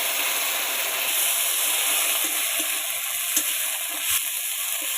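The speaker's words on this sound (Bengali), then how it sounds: "আমি এই কাঁচা টমেটোটা দিয়ে দেবো। দিয়ে টমেটোটা ভালো করে ভেজে নেবো।" Raw tomato sizzles steadily in a hot pan with onions, giving a continuous close frying hiss broken by a few small pops and stirring scrapes. No one talks.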